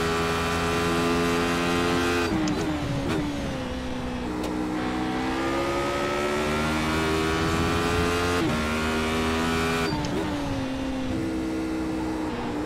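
A Radical race car engine in the iRacing simulator drones loudly and continuously, its pitch rising through the revs with several sharp drops at gear shifts, no talk over it.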